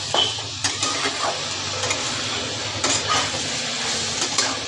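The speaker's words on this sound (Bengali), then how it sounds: "এবার বেগুনের সাথে একবারে আলু দিয়ে কষিয়ে নিচ্ছি মশলাগুলোর সাথে।" Brinjal and potato stir-fried with spices in a pan, a continuous sizzle broken by repeated scraping and clinking stirs of a spoon against the pan, close and fairly loud, with no voices.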